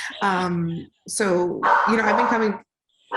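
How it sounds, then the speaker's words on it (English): A pet dog lets out a few quick yips and barks, close and loud, while someone talks over and between them during an indoor interview. "That's my dog"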